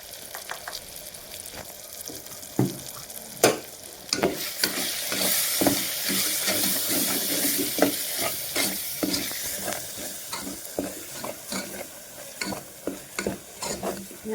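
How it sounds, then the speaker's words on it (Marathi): Spice masala of coriander-cumin powder, garam masala and red chili powder sautéed in a pan for squid masala, a constant sizzle under rapid, rhythmic spatula strokes and scrapes, close and fairly loud, no speech. "हे आपले मसाले चांगले परतून झालेले आहेत"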